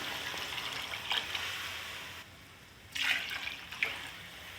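Water poured into a pot of frying rice and vegetables, a soft rushing splash in short bursts with a brief quiet gap between pours, close and fairly faint.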